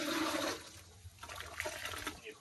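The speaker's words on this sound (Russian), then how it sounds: "дождевая вода идет" Rainwater pours into a basin set out for bees, a gushing, splashing stream that briefly drops off before resuming, heard close and fairly quiet.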